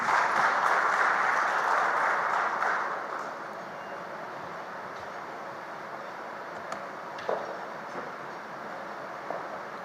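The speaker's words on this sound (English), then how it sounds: "Can we have a huge round of applause, ladies and gentlemen?" Audience applause after a presentation at a conference event, a broad steady clapping wash that is loud for the first few seconds and then thins to a quieter, scattered patter.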